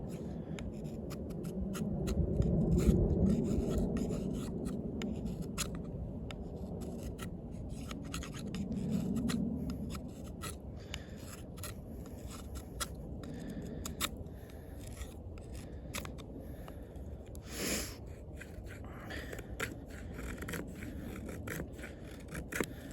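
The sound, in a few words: cutting small pieces with Sitivien ST19 tanto knife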